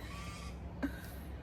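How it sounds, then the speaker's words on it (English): Ravens and currawongs call outdoors, a faint, distant caw standing out briefly over quiet background ambience. "there were ravens, there were currawongs, there were lorikeets, there were birds I couldn't even see"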